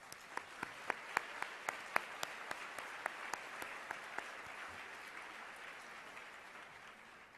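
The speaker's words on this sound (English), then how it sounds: "let's give them a round of applause." Audience applause at a YWCA We Believe gala, a room full of hands clapping steadily with sharper individual claps standing out early, tapering gradually toward the end.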